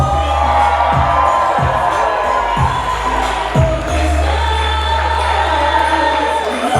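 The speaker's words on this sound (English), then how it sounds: "Let's give them one more big round of applause, everybody, come on." Wedding guests cheer the bride and groom at a reception, with loud whoops and crowd noise rising over steady dance music from the DJ.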